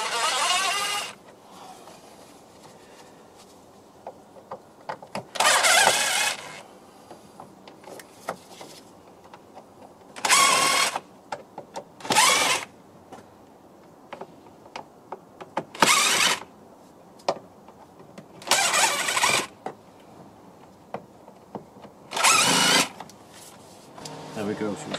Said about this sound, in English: we can leave all these in place and just undo all this Phillips screws